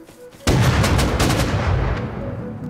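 A burst of rapid gunfire in the survival game Rust kicks in suddenly, loud and close, then trails off into a decaying rumble over a couple of seconds.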